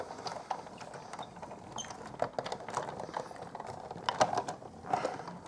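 Big Shot die-cutting machine cranking a plate through, a series of close, irregular ratcheting clicks and clacks from the hand crank, moderately loud, without talk.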